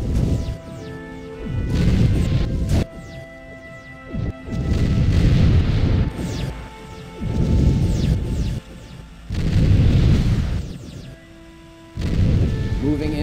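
Forward torpedo tubes on a starship in a Star Trek audio drama fire in repeated loud bursts, four or five heavy booming blasts with rumbling tails spaced a couple of seconds apart, backed by a sustained musical drone.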